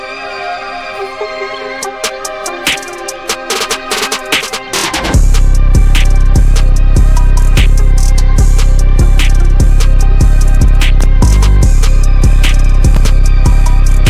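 A hip-hop beat opens with a sparse melodic intro, then heavy distorted 808 bass and crisp drums kick in loudly and keep a steady groove.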